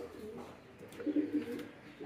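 Pigeons, including king pigeons, coo softly in a pigeon loft after rain, with a short run of low, throaty coos in the middle over quiet background noise.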